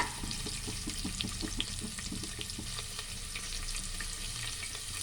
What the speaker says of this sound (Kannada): ನೋಡಿ, ಈರುಳ್ಳಿ ಹಾಕ್ಕೊತಾ ಇದ್ದೀನಿ ನಾನು. ಅದನ್ನು ಚೆನ್ನಾಗಿ ಫ್ರೈ ಮಾಡ್ಕೊಳ್ಳಿ.